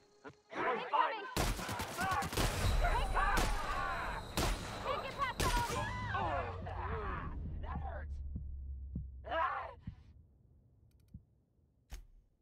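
Shotgun fired at point blank in The Outer Worlds: several sharp, loud blasts ring out among game sounds, with a low droning hum and a speaking voice in between the shots.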